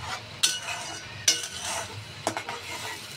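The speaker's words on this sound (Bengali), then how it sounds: "আমি এখন সমস্ত মশলা ভালো করে কষিয়ে নেব, মশলায় তেল ছেড়ে দেওয়ার আগ মুহূর্ত পর্যন্ত।" Spices with turmeric, coriander powder and salt are stirred and fried in oil in a pan for a hilsa and taro curry, with a steady sizzle broken by three sharp clinks of a spoon against the pan.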